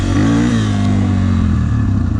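A Yamaha TTR 250 dirt bike accelerates hard close by, its engine revving up loudly with a rising, rough mechanical roar that holds strong throughout.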